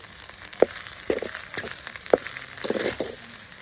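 Khichdi being tempered in a pan in a village kitchen, sizzling and crackling with sharp spattering bursts and stirring scrapes over a constant frying hiss, close and loud.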